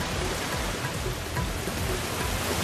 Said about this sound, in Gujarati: સૂત્રાપાડામાં ધોધમાર વરસાદ વરસ્યો